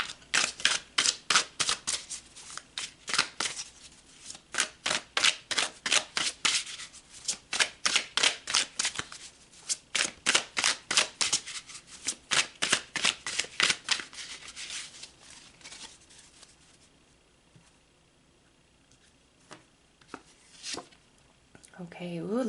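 Tarot cards are shuffled close up in quick rhythmic riffling bursts for about fifteen seconds, then fade to sparse, softer card handling and rustles.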